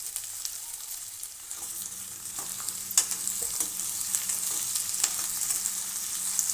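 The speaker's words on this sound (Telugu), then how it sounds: "టమాటో అనేది కొంచెం అలా ఫ్రై అవ్వడానికి మనము బాగా ఫ్రై అవనిస్తాము" Diced tomatoes and onions fry in a pan for a chicken gravy, giving off a steady close sizzle broken by occasional stirring scrapes and clicks.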